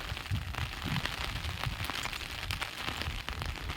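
Steady rain falls outdoors near a filling dam and a village temple, a dense, even patter on surfaces with no pauses and no voices.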